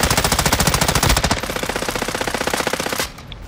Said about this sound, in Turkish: Vur adamı.